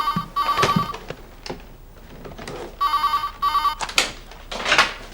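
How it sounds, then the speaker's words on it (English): A telephone rings with two bursts of an electronic ring, a pause between them, loud and close, with door and movement noises faintly around it. "let me answer the phone first"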